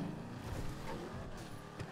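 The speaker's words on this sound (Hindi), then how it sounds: "गाड़ी की आवाज ही बहुत ज्यादा भाई" A car engine in the video game GTA 5 drones steadily, loud and close, with a constant motor roar and slight surges throughout and no break in the sound.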